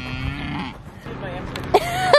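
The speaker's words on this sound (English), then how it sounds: "And we're just petting a cow we just met." A cow moos while being petted. Two short, close calls come near the end, over light background noise and chatter.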